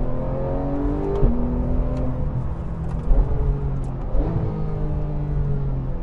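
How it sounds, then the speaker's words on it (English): A 2014 Porsche 911 GT3 accelerates hard through fast automatic gear changes, its engine note climbing steadily, dropping sharply at each quick shift, then rising again, loud and close with a continuous roar. "listen to how fast this thing changes gear."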